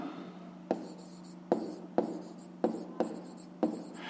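A pen or pencil writes numbers by hand for a fifth-grade maths exercise, with six short scratchy strokes spaced about half a second apart, quiet and close.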